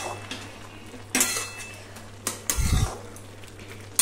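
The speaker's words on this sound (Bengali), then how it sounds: "এরপরে ঢাকাটা খুলে নেব।" Metal clanks and clinks as the lid comes off a cooking pot of spinach and prawns, with a few sharp knocks and a brief low rattle.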